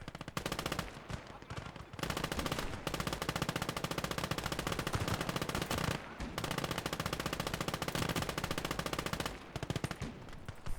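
Sustained machine gun fire from the Call to Arms: Gates of Hell World War II game, dense rapid bursts running almost continuously with two brief pauses, loud and close, with no speech over it.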